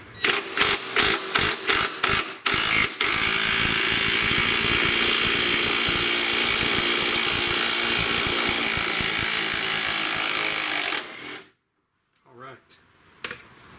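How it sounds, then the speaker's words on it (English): A cordless impact wrench with a deep impact socket loosens a bolt on a 2003-2008 Honda Pilot rear shock, starting with several short rattling bursts, then one long steady hammering run of about eight seconds before it stops and the bolt spins free. "It's a cordless impact. I just use these impact sockets, the deep ones here."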